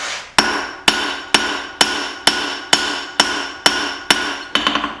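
A hammer strikes a steel bolt on an anvil horn while a small knife is forged: about ten loud, ringing metallic blows at an even, steady pace, each one decaying before the next.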